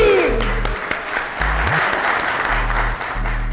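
An audience claps steadily to welcome comedian Shafaat Ali onto the stage at a live event, a dense, continuous round of applause that stays loud for several seconds, with low hum and some whistling mixed in.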